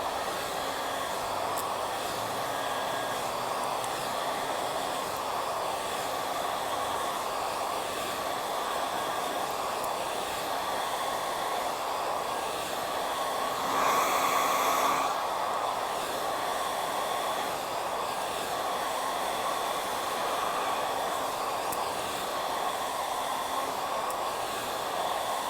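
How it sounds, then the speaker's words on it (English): Hair dryer running at full speed and full heat while blow drying hair for volume, a steady loud whooshing roar held for the whole stretch with a brief surge partway through. "I'm going to blow dry this and show you what kind of volume you can get."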